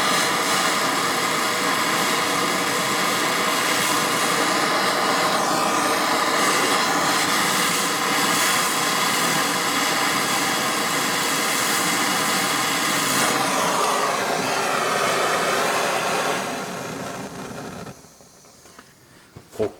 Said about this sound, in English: And now I heat really this bolt